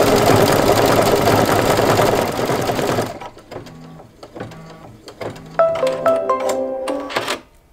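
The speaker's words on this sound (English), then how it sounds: "it's going to do the final decorative stitch on that" An embroidery machine runs a decorative stitch on a quilt block: a dense, loud run of stitching for about three seconds, then sparse separate needle strikes and mechanical clicks with short tonal whirs.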